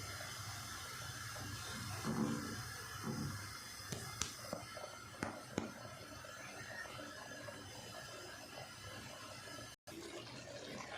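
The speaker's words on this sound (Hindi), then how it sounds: "बॉयल आना शुरू हो गया इसमें, अब इसको अच्छे से पकने देंगे" Daliya (broken wheat) cooks in water on a stove over low heat, giving a soft, continuous bubbling simmer with faint scattered pops and clicks, steady throughout with a brief dropout near the end.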